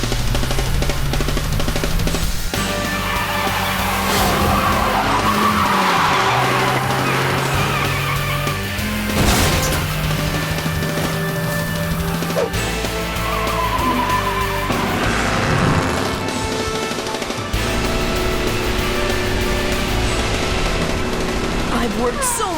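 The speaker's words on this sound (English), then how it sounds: "He nailed that lightning drift around 2 corners!" A toy race car drifts around two corners with sliding tire squeals and a buzzing motor, set among busy cartoon sound effects and music over about twenty seconds.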